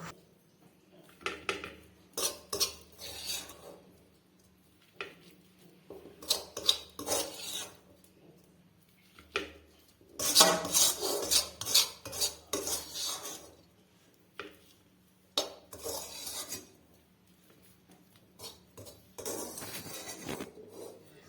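Roasted sooji and coconut scraped from a pan into a dish with a metal spoon, giving repeated bursts of harsh scraping and clinking in uneven clusters, close and fairly loud, with no talking.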